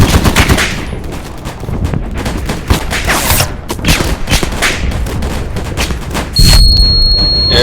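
Dense bursts of automatic gunfire and single shots crackle through a shooting video game, loud and continuous with rapid rattling volleys and occasional booms.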